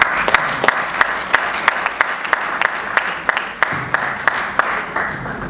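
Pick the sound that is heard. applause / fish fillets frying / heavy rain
applause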